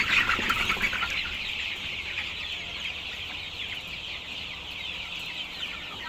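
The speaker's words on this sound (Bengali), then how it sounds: "মুরগি তো বড় ছোট আছে" Chickens of mixed sizes on a poultry farm cluck in a continuous, fairly busy chorus, loud at the start and then steady, with no talk.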